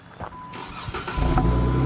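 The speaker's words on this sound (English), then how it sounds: "when you crank this baby up" A car engine cranks with a few uneven bursts, then catches and settles into a loud, steady low rumble nearby.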